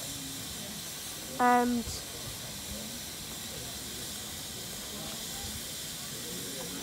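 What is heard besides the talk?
freight train standing with steam hiss at heritage railway gala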